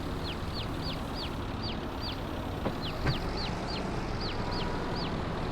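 Chickens cluck in a farm roleplay game, a steady series of short rising chirpy calls repeated in loose clusters over a constant dense ambient hum, with no talking.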